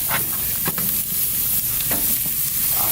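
Bison slider patties sizzling on a hot outdoor grill: a loud, constant frying hiss close up, with a few soft pops and scrapes and no talking.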